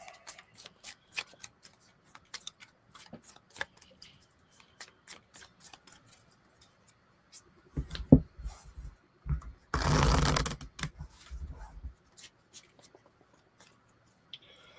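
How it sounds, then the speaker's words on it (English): A deck of Magic cards shuffled during a four-player Commander game: light riffling and tapping, then a dense burst of riffle shuffling up close, brief and crisp, with quiet talk in the background. "I'm going to shuffle this in"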